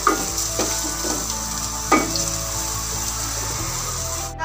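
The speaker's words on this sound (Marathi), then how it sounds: "आता कांदा थोडासा लालसर होईपर्यंत आपल्याला याला परतून घ्यायचा आहे।" Onion sautés in a pan for kande pohe, a close, steady sizzle and fry with a few clicks of a spoon against the pan and no voices.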